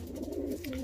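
Pigeons in a young bird loft give soft, low cooing calls, a short murmuring coo rising and falling close by with faint background noise.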